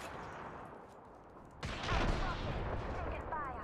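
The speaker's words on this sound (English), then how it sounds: "Taking fire." Gunfire in the video game Apex Legends: quiet ambience gives way to a sudden loud burst of rapid shots that continues as a sustained volley, with voices faintly present.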